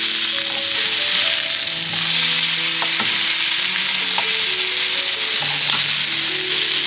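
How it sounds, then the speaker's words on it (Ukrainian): Large pieces of chicken fry over high heat, a loud, dense sizzle with spatters and a few sharp spoon clinks as the meat is turned. "Так підсмажуємо, щоб смачніше був бульйон, який нам буде потрібен для ковбаси."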